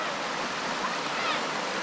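At a Desoto Falls campsite in the North Georgia mountains, waterfall and stream water rush nearby in a steady, close, full wash with no breaks.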